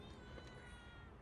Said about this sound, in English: Look, cat.